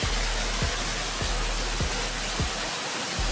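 Water pours down over rocks in a steady, loud broadband rush, with low periodic thumps recurring about every half second.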